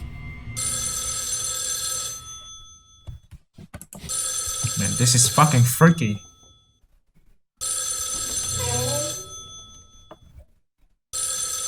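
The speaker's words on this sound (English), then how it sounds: "I was supposed to answer the phone, but the tape is still spinning inside the boombox." An old telephone rings in the video game Spirit Hunter: NG, in long repeated bursts separated by pauses, while someone talks over a stretch between the rings.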